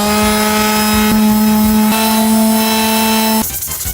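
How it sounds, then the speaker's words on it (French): A loud, steady, high electric whine from a power sander running against an iPhone as it is sanded before painting, held close for about three seconds before it cuts off abruptly. "je vais utiliser une ponceuse pour préparer ce téléphone pour la peinture"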